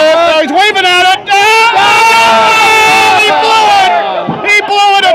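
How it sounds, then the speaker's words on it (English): Bowling alley crowd yelling and whooping loudly during a tense ten-pin game, a dense roar of many overlapping voices rising and falling over several seconds. "A lot of yelling going on."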